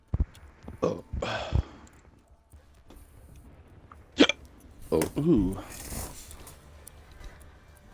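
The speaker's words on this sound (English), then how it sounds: "Got the hiccups, huh?" Hiccups from a person during a casual conversation at home, a few short sharp gulping bursts spaced over several seconds, with speech around them.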